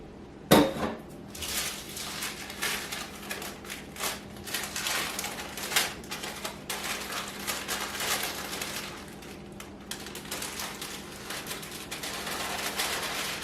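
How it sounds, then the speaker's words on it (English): Baking powder is mixed into flour in a bowl for biscuits, heard as repeated scraping and clinking of a utensil against the bowl, close and irregular, with no talking. "I like to make sure that the baking powder really gets mixed around like it should."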